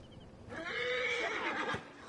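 A horse neighs loudly in the Assassin's Creed Origins video game, one drawn-out whinny of about a second and a half that rises and wavers, heard alone against a quiet background.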